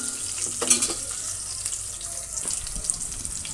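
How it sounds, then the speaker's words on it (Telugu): Sliced onions and green chillies sizzle steadily in a hot pan, a continuous close crackle with a few brief clinks and stirring scrapes over the top, no voices. "ఈ ఆనియన్స్ మెత్తబడే వరకు ఫ్రై చేసుకోవాలి."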